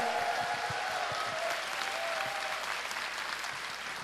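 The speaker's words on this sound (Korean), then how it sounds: "큰 박수로 맞이해 주십시오" Sustained applause from a student audience welcoming a politician to a university lecture hall, a steady dense clapping wash held throughout at even level.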